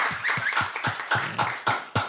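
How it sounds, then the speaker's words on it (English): A small podcast studio audience gives a round of applause, about eight distinct, fairly close claps in a loose uneven rhythm, heard on their own without talk. "A round of applause to yourselves for coming through."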